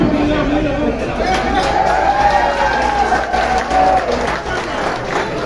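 A live show audience in Lawrence, Massachusetts applauds and cheers, with steady loud clapping and crowd noise under someone talking over it.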